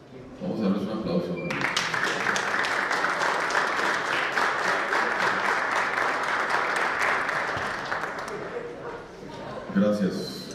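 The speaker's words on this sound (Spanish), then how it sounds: "Vamos a darles un aplauso." A legislative session hall fills with applause: after a brief moment of voices, a crowd claps loudly and steadily for about seven seconds before it dies down and talking resumes.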